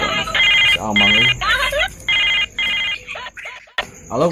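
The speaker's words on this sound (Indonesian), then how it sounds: "Aduh, telepon si Amang ini." Indoors, a telephone plays a melodic ringtone, loud and close. Its bright, repeating tonal phrases continue for several seconds, with short gaps between them.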